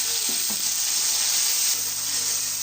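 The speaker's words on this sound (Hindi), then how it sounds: "5 से 6 सेकंड के लिए हम अदरक लहसुन को फ्राई कर लेंगे" Ginger and garlic fry in a pot of oil for chicken biryani, producing a loud, continuous close sizzle with no talking.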